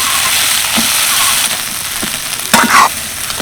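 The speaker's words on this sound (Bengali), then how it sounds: "এবার চামচ দিয়ে এইভাবে একটু ঘেঁটে নেব" Boiled mung dal and peeled potatoes are stirred with a spoon in a wok, making a continuous soft hiss with scraping and a couple of brief clinks near the end.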